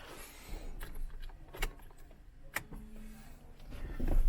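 Close, sharp clicks and a jingle of keys as a key is worked into the ignition of a 2007-2014 Mitsubishi Triton, followed by a faint mechanical whir.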